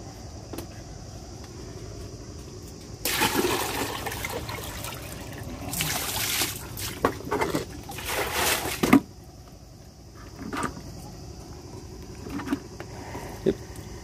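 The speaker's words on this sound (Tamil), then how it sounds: "இப்போ இந்த பக்கெட் ஃபுல்லாக காலி பண்ணிவிட்டு மறுபடியும் ஃப்ரெஷ்ஷாக தண்ணி ஃபில் பண்ண ஆரம்பிச்சிருக்கேன்" A battery-converted water can pump, its battery running down, pours water into a bucket, a rushing splash in the middle section between quieter stretches of faint trickling and small knocks.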